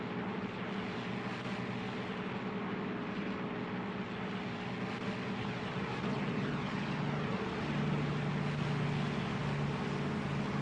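Combat aircraft engines in Air Conflicts: Secret Wars give a continuous droning roar that stays loud and fairly even, swelling slightly toward the end, with no voices.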